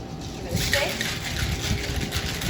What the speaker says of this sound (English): Give it a shake.